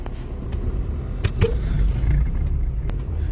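A car towing a trailer loaded with watermelons rolls along a road, its steady low rumble of engine and tyres continuous and close, broken by a few brief knocks and rattles.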